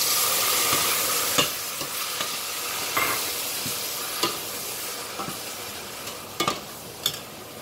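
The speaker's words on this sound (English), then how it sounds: "I'm just going to add the tamarind juice right now." Tamarind juice poured into okra pulusu frying in a pan, giving a steady loud sizzle with scattered crackles and pops as it is stirred, no voices.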